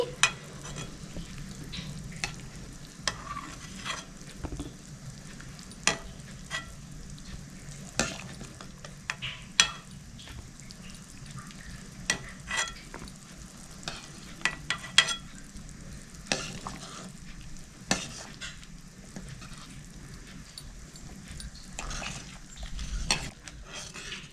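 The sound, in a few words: chicken being lifted out of frying pan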